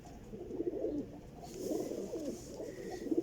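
A Sialkoti pigeon coos in soft, low, rolling phrases that rise and fall, close by and alone over quiet background.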